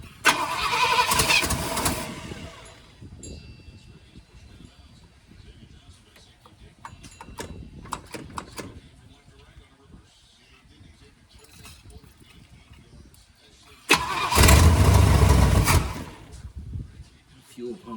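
Engine of an abandoned 1966 Pontiac Grand Prix cranking loudly in two long bursts, with a quieter stretch between holding faint mechanical clicks and handling noises, as the fuel pump delivers fuel.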